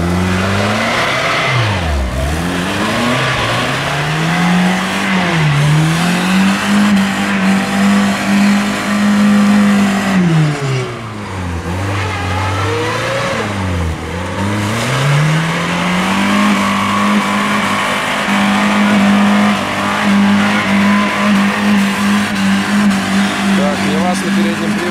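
A VAZ 2110 drives off-road in front-wheel drive, its engine loud and continuous with repeated revving that rises and falls, briefly easing around the middle before climbing again, while people talk over it.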